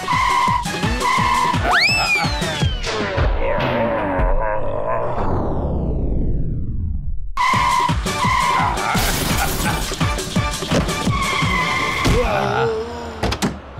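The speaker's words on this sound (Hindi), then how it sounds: "गाड़ी की आवाज तो आई थी" Car tires squeal in long skids with engine roar, a loud sweeping screech that falls away, then a second burst of squealing and revving, all close and sustained.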